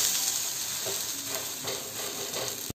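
A sooji (semolina) crepe sizzles steadily in oil in a pan after being flipped, a close, continuous crackling hiss with faint scraping clicks and no talking.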